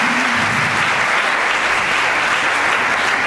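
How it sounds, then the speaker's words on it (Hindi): A hall audience at a memorial discussion and award ceremony applauds loudly and continuously, a thick, even wash of clapping with no pause. "आप अच्छी सी तालियां बजा सकते हैं।"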